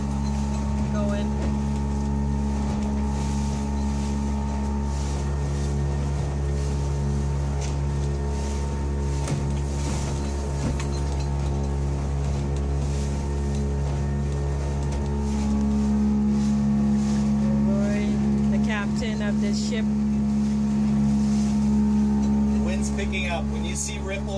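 A motorboat engine drones steadily while crossing rough open water toward Henley Inlet in the French River area, a constant close hum with steady tonal harmonics and faint slapping of waves, no talk.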